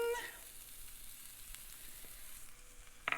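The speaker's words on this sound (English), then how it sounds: "Now, listen, you are frying up fresh chilies." Fresh chilies, garlic and spring onion fry in an oiled pan, giving a faint, steady sizzle with a few small crackles and no talking.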